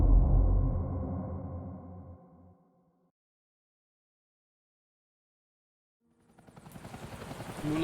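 A helicopter in Batman: The Telltale Series video game: a loud low rotor rumble fades out over a few seconds, then after silence a rhythmic chopping whir builds back up, with game score layered in.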